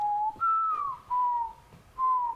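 A person whistles an imitation of a mourning dove call, several clear sliding whistled notes with short gaps between them, close and alone against a quiet background.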